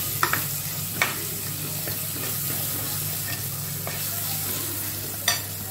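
Onions and tomatoes frying for drumstick sambar give a steady sizzle, with a few sharp spoon taps against the pan.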